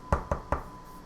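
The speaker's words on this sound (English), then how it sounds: "I'm gonna knock on the door." Three sharp knocks on a door in quick, even succession, close and distinct with nothing else around them.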